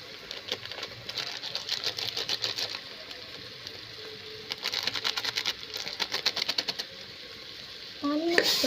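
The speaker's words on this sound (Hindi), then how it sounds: "इससे मसाला से मैं इसको चला देती हूँ। धीरे से मैं चला दी हूँ। अब थोड़ी देर के लिए मसाला को भून देती हूँ।" Masala spices being stirred and roasted in a pan, with bursts of rapid scraping and stirring over a low sizzle, pausing between rounds, and a voice briefly heard near the end.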